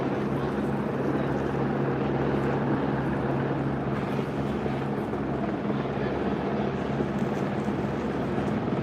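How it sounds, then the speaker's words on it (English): A news helicopter hovers overhead during a homicide suspect search, its loud, steady rotor drone filling the whole stretch without letup. "That news helicopter is starting to annoy me"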